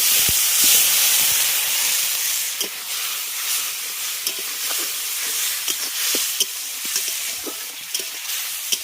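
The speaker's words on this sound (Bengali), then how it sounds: "এবার দিয়ে দিচ্ছি জল" Water goes into a hot pan of spices for a drumstick and potato curry, hissing loudly at once, then a bubbling, crackling sizzle with sharp pops that carries on to the end.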